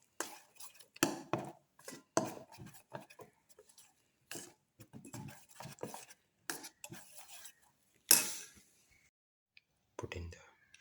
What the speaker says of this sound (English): mix all the ingredients together